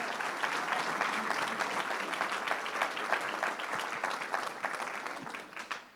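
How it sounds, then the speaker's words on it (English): Audience at a February 2023 school board meeting applauds two school resource officers from Magnolia West High School, a steady dense roomful of clapping that holds evenly before tapering off at the end. "you can go ahead and give them a round of applause"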